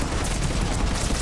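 Revenant rifle firing warp ammo in Mass Effect 3, a dense, continuous burst of rapid automatic fire heard loudly and alone for just over a second.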